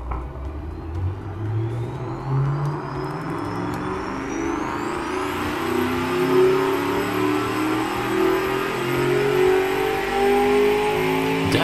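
A racing bus in the Automation car-building game, fitted with two large exhaust pipes and no mufflers, revs hard with a loud, rough engine note that climbs steadily in pitch and holds a sustained rumbling drone throughout.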